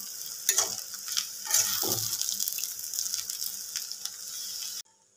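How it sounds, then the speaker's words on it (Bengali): Veg hakka noodles with spring onion being stir-fried and mixed in a pan, close sizzling hiss with scraping stirs and a few sharp clacks, running steadily before cutting off abruptly near the end. "এবার এই স্প্রিং অনিয়নটা দিয়ে ভালোভাবে আর একটু মিক্স করব।"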